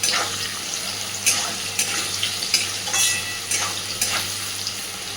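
Potato pieces frying in oil in a pan, a continuous sizzle broken by several sharp scraping stirs at irregular intervals, close and fairly loud.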